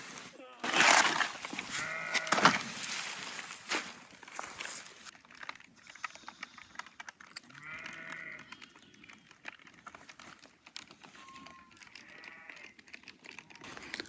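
Sheep and lambs on a farm bleating in short calls, a couple clearer near bleats among scattered farmyard noise, with a brief voice early on.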